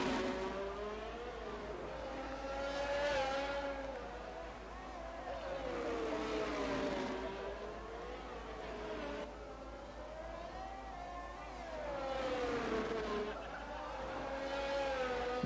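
Race cars engines rising and falling as they brake and power through corners in a sim racing league event at the Singapore street circuit, steady and fairly loud, with commentators talking over them throughout.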